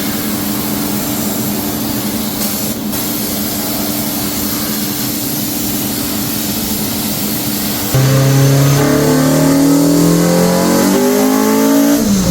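A car with a K24 engine build revs hard on its final run, a loud steady engine drone that climbs in sharp rising sweeps in the last few seconds, close and alone with no talk.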